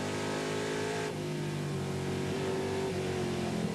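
TVR Tuscan Challenge race cars from the 1990 season roar around a circuit, a dense, continuous engine howl with shifting pitch as cars accelerate and pass, heard loud and unbroken with no commentary in this stretch.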